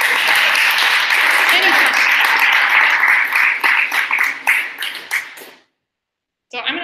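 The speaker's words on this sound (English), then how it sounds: "Oh yeah, you can clap." An audience claps after a talk at a sports data evening, steady applause for several seconds that thins into scattered claps and stops, followed by a brief sound after the silence.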